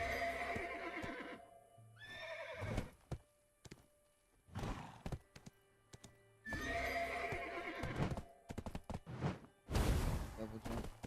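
A horse in the online game Black Desert Online whinnies loudly several times, with hooves clip-clopping and thudding between the calls, all close and clear, while a voice speaks briefly in the background.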